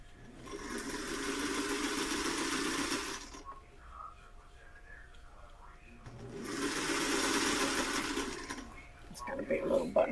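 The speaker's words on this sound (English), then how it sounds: "Now at this point, you could turn it and sew the rest of your bag." Sewing machine stitching a fabric pocket bag in two loud sustained runs of whirring motor hum separated by a quieter pause, with faint handling noise at the end.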